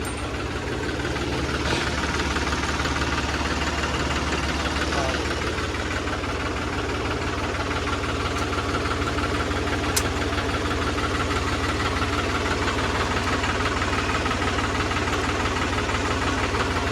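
New Holland tractor engine idling with a steady, dense, even rumble that holds at constant loudness throughout, recorded close up.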